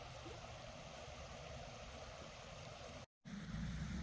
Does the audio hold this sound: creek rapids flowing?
yes